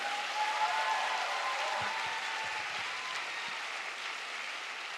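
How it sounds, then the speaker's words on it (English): Steady audience applause for a speaker at the Awaaz 2022 stage show, a dense even wash of many hands clapping at moderate distance that holds without a break throughout. "Can we please get one more round of applause for Mr."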